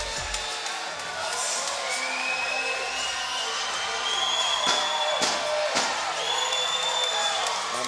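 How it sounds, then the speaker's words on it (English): A loud, steady roar of cheering and whooping from the crowd at a Gladiators of the Cage MMA event fills the arena as fighter Dom Mazzotta makes his entrance, with scattered shouts and whistles over a dense wash of noise. "A lot of noise in this crowd for Dom Mazzotta"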